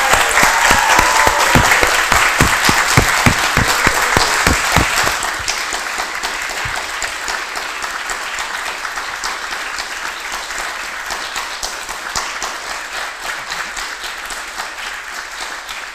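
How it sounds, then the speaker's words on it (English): Wedding guests clap and cheer after the couple's kiss, loud dense applause with sharp individual claps at first, then settling into a steady, softer crowd clapping that carries on to the end. "you're allowed to clap and cheer and"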